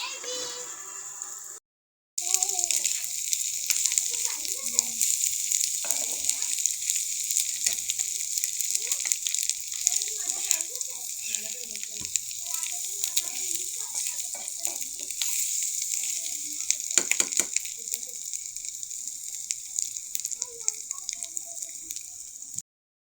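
Food frying in a pan until reddish brown, a continuous close crackling sizzle with scattered pops and spatters that carries on at an even level throughout after a brief silent gap near the start.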